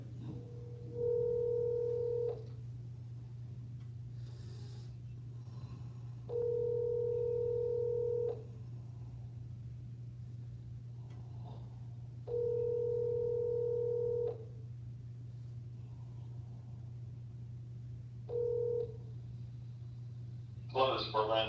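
On a radio call-in show's phone line, a steady low hum runs underneath while a telephone tone sounds in regular bursts of about two seconds, repeating four times with pauses, fairly faint, before a brief clatter at the end.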